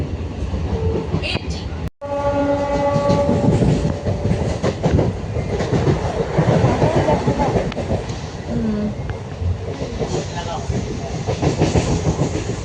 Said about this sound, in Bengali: বর্ধমান জংশন পর্যন্ত যাওয়ার এই ট্রেনটি পরবর্তী স্টেশন দোনেখালি।